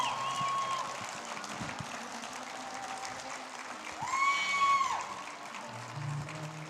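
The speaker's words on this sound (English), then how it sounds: "Ladies and gentlemen, give a round of applause for Mr. Ken Ma." Audience applause at a bass fishing championship weigh-in, a sustained patter of clapping from a crowd, with a whistle-like tone rising briefly near the end.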